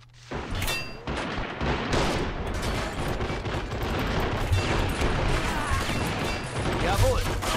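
Mortar and artillery fire in Men of War: Assault Squad 2, a dense, continuous barrage of booms and crashing impacts across the whole stretch, with a voice talking over the battle.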